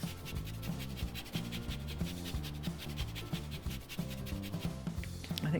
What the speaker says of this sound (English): A little bit of lemon zest.